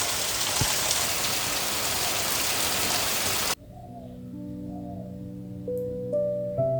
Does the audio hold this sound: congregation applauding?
no